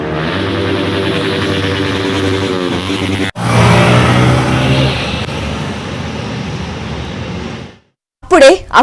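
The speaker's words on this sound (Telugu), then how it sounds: "సైలెన్సర్లు లేని బైక్ల శబ్దాలతో స్థానికులు భయాందోళనకు గురవుతున్నారు." Motorbikes without silencers rev loudly at night near T-Hub in Madhapur, Hyderabad, where stunt riders gather. The engines drone close and continuously, swelling into a harsher roar midway, then cut off briefly before a short burst of sound.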